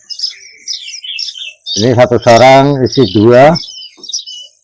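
Young oriental magpie robins chirp at an Indonesian bird shop kiosk, with bright, close twittering before and after someone speaks.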